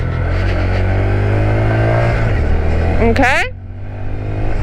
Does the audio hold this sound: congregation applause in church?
no